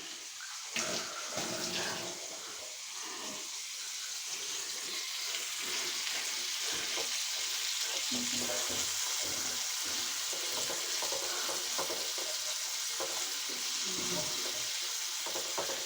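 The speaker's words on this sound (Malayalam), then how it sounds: "ഇനി ഇതാ നമ്മളെ ചെമ്മീൻ കുട്ടന്മാർ വേവിച്ച് എടുക്കാനുണ്ട് കേട്ടോ" Prawns cooking in a pan, with a steady, hissing sizzle that carries through the whole stretch and a voice talking over it now and then.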